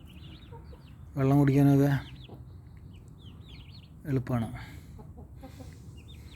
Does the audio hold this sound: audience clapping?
no